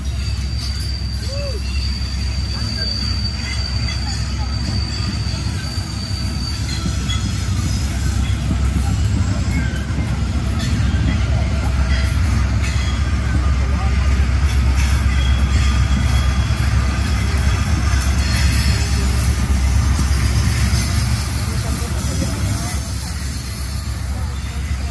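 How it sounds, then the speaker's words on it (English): A long Norfolk Southern eastbound coal train rumbles steadily past on Horseshoe Curve with locomotive engine drone, rear helper locomotives in dynamic braking, clanking cars and a faint high wheel squeal, loud and continuous throughout. "Got some helpers for dynamic braking on the rear of the train."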